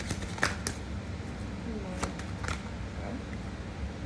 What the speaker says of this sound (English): these cards are very hard to shuffle anyway